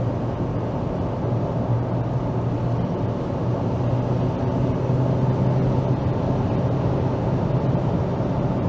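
Steady low engine drone and road rumble fill the cabin of a Ford Mondeo MkIII 1.8 while driving, an even, continuous hum with no gear changes or voices throughout.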